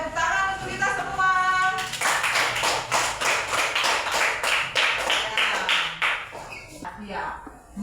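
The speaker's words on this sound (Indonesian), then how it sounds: "tepuk tangan untuk kita semua" A classroom group breaks into rhythmic clapping after a brief spoken remark, a dense run of hand claps that carries on for several seconds before fading out.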